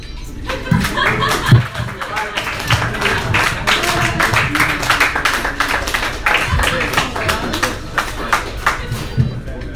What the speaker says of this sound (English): Another round of applause for GT Capali and the Gangsta Taco.